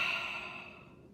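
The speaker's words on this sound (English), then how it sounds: "And I want you to breathe in." A single deep inhalation by a person during a singing breath-support exercise, a soft airy breath that starts fairly strong and slowly fades over about a second, heard alone.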